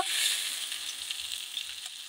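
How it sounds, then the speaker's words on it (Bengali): Bhola fish fries in hot oil with a steady, close, bright sizzle and faint crackles throughout, with a few low soft knocks from the pan and no voices. "মাছটা ভাজা ভাজা হয়ে গিয়েছে।"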